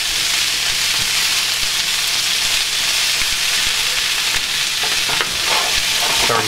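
Cabbage frying in bacon fat in an overfilled pan, a loud continuous sizzle with scattered clinks and scrapes as it is tossed and stirred, no talk.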